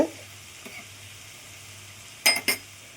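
Onion, ginger and garlic sauté in a pan with a faint, low sizzle, then two quick metallic clinks of a utensil against the pan near the end; no talking.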